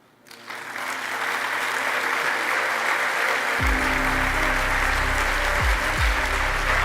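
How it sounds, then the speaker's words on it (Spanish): Conference audience at Congreso Futuro 2023 breaks into strong, sustained applause after a presentation, steady dense clapping from a large hall, with a low rumbling tone entering partway through. "Un fuerte aplauso."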